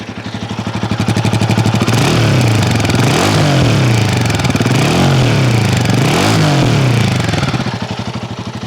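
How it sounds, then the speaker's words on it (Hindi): A Royal Enfield Himalayan 452 sits in neutral while its exhaust barks through four sharp throttle blips, each swelling and falling back to a thumping idle, loud and close with no talking. "तो ये था आपका हिमालयन का एग्जॉस्ट नोट।"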